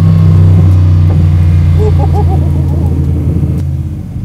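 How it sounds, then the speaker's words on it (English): A Superformance Shelby Cobra with a 7.3L Godzilla engine rumbles loudly close by as its revs drop, with a few faint exhaust pops on the throttle and a brief voice under the engine note. "good pops on the throttle down"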